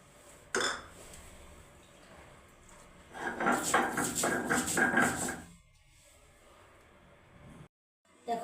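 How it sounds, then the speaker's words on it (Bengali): Coriander and cumin ground by hand on a flat grinding stone, a short burst of rhythmic rough scraping strokes, close and fairly loud, set between quiet kitchen pauses. "এবারে পরিমাণ মতন ধয়া আর জিরাটা আমি বেটে দিচ্ছি"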